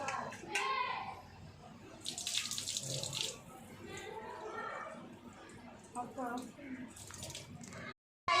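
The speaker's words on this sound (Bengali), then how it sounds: "আমি চালটা ধুয়ে নিচ্ছি, ভালো করে ধুয়ে নেবো চালটা।" Rice is rinsed in water at a sink, with splashing and running water in bursts, interrupted by a voice speaking over it.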